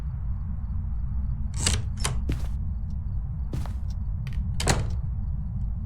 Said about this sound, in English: you want to be listening for like a double door touch sound.